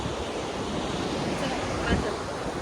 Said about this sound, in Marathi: काय पाण्याला वेग आहे